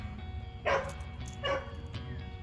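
A dog barks indoors at home in two or three short, sharp yips spaced about a second apart, moderately near over a quiet room background.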